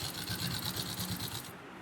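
A sewing machine runs a short burst of rapid, even stitches to lock a tack at the start of a seam on a men's underwear garment, then stops abruptly near the end.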